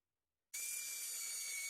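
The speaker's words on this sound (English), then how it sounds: "Drilling holes through the seat post to mark where the slot has to go" A drill bores holes through a seat post. After a moment of silence the tool starts abruptly into a steady, high, whining tone that holds evenly to the end, with no talking.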